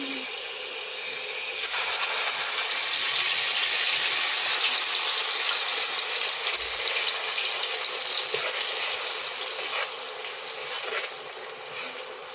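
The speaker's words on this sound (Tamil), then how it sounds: "இப்போ நம்ம அரைச்சி வச்ச மசாலாவை அதில் ஊற்றிக்கலாம்" Ground masala paste spitting and sizzling in hot oil for a crab pepper fry, a steady broadband crackle that swells loud after the paste goes in and holds with no one speaking.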